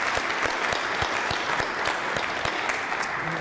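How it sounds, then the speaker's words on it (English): Audience at a college homecoming convocation and alumni awards ceremony giving steady, sustained applause for alumni volunteers, a full, even wash of many hands clapping. "let's give them a big round of applause"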